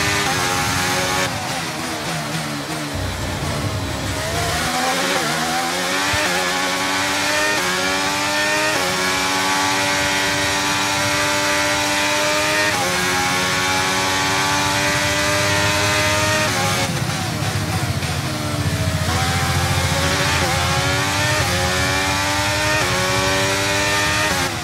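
A Formula 1 race car laps a track in F1 23, its loud high-pitched engine sweeping up and down through gear changes continuously over the whole stretch.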